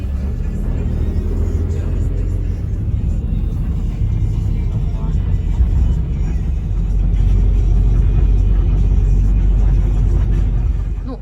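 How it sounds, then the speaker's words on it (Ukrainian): Steady low engine rumble and road noise inside a moving city bus, continuous and fairly loud throughout with no clear talk. "ми вже не ризикували, а сіли в автобус та й поїхали"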